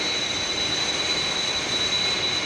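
Another aircraft flying dead ahead, a constant close engine drone with a thin steady high whine held at even loudness throughout, no voices.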